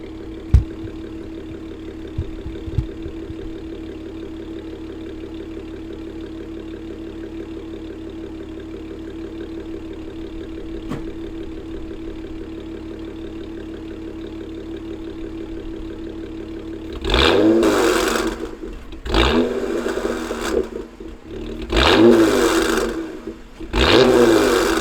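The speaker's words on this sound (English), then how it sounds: "now I'm going to throw y'all in the back so y'all can hear what my exhaust sounds like" V6 car exhaust heard from behind the vehicle: a steady low idle rumble for most of the stretch, then several loud revving bursts in quick succession near the end, each rising and falling back to idle.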